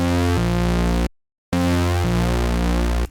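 Retro synthwave bass patch from the Phase Plant synth with drive and group gain settings, playing sustained, buzzy held notes that shift pitch, with a brief silent gap between phrases; loud and up front, no voices.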